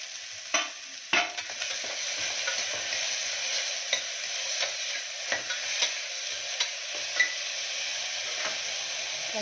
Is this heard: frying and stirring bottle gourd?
yes